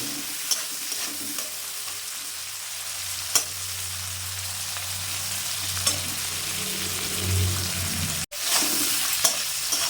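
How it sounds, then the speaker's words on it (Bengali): Prawns seasoned with salt and turmeric fry half-done in a pan, giving a loud, continuous close-up sizzle with occasional spits and a brief cut near the end, without talking. "চিংড়ি মাছ বেশি ভাজবেন না, বেশি ভাজলে মাছ শক্ত হয়ে যাবে।"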